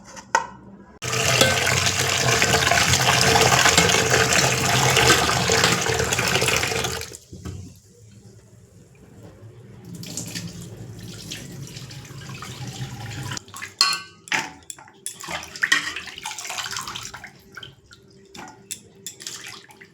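Thinly sliced potatoes are rinsed under running water at a kitchen sink, a loud steady tap gush for several seconds, then quieter splashing, rustling and clinking as the slices are swished in a bowl.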